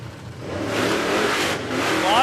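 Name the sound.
Holden HQ drag car launching off the start line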